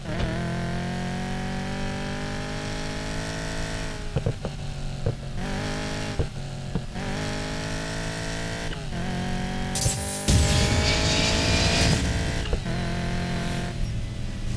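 Ford Mustang GT 5.0 V8 engine in the racing game Need for Speed Payback, stock and slightly muffled, revving up and down repeatedly with gear shifts, then a sharp louder burst near the end.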